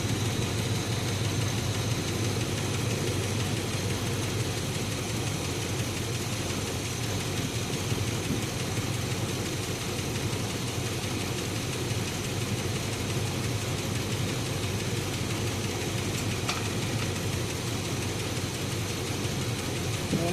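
A 1986 Chevrolet K5 Blazer engine idles steadily while warming up, a continuous close rumble with a faint ticking from a suspected lifter, alone with no talk.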